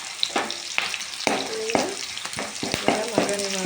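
Onion, green chili and ginger sizzle in a hot pan, loud and close, with a steady fry broken by repeated stirring scrapes.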